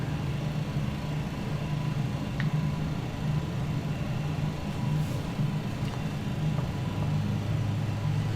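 Steady low engine hum of an MD-11 airliner's number two engine running after start in a flight simulator, a continuous even drone held throughout with no talk.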